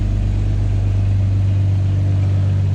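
A supercharged Lexus IS350 engine runs with a deep, steady, loud drone close by, holding an even throbbing hum without clear revving peaks.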